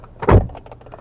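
A door of an MG Astor car swings shut with a single solid thunk, short and close, followed by faint quiet.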